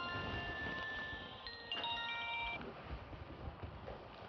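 A telephone gives a few electronic tonal rings and beeps in an indoor scene, moderately loud over a noisy background with no speech.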